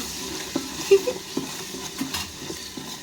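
Biryani being mixed in a pot, with soft wet stirring and scraping strokes in an irregular rhythm, close and moderately quiet, plus a faint sizzle underneath.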